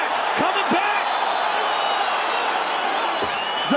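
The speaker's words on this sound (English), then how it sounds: "Brooklyn crowd getting behind these two warriors" A Brooklyn crowd cheers steadily at a UFC fight between Zabit Magomedsharipov and Kyle Bochniak, a dense, loud roar of shouts and whoops that never lets up, with a few sharp thuds breaking through.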